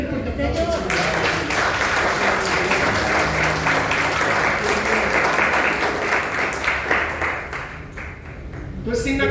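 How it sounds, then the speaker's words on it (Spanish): Church congregation applauding loudly during a Pentecost service, dense sustained clapping that fades near the end, with a few voices underneath. "Den un fuerte aplauso al Señor."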